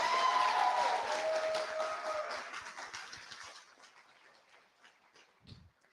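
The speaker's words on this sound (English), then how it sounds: "Can we give her one more round of applause?" Audience applause at a university year-end celebration, loud at first, then thinning out and fading over several seconds with a few scattered claps at the end.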